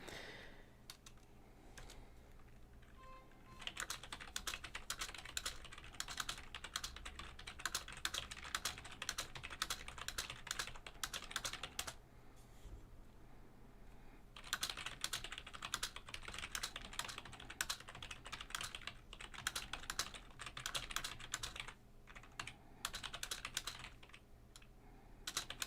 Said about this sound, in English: Just spam typing a load of stuff quickly and we'll get this sorted